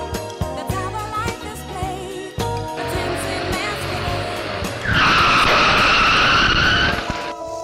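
Car tires skidding and squealing in an accident, a loud sustained screech rising over engine and road noise, with a dramatic music score running underneath.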